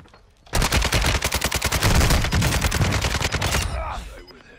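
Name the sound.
gunshots in Warzone 2.0 video game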